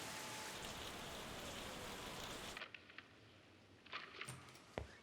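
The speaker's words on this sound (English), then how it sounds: "It's always raining." Steady dense rain falls in the game Lost Judgment, a continuous hiss that cuts off abruptly halfway, leaving faint scattered taps and soft thumps.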